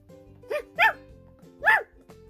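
A dog barks three times in short, sharp bursts, fairly close, over a soft steady musical backing.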